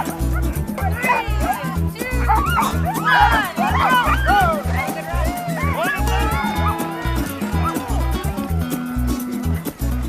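Sled dogs at the start of the Jackpine 30 dogsled race, six- to four-dog teams, bark and yip excitedly in a dense, continuous chorus, some close and loud, with overlapping whines and a constant rumble beneath.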